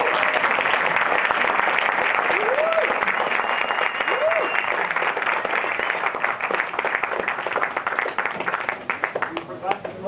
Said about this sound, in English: let's give one a huge round of applause